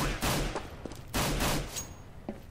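Bursts of gunfire in a Counter-Strike match on de_mill: two rapid volleys of shots, close and sharp, separated by a brief lull, with faint tails after each.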